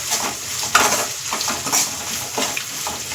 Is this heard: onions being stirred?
yes